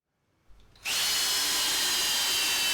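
An 18V brushless hammer drill on a low speed setting starts up after a brief click and settles into a loud, steady whine as it drives a 150mm coach screw into a 5mm pre-drilled hole.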